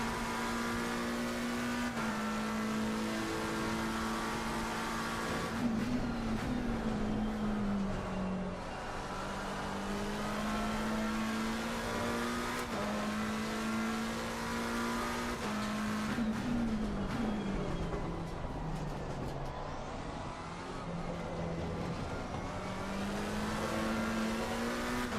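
McLaren race car in Assetto Corsa Competizione droning steadily at high revs for the whole stretch, pitch climbing through gears with brief dips on downshifts around corners, loud and close with faint tire noise.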